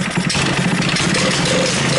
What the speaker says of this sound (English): Even gunning it up like that, you know, she's idling down real good.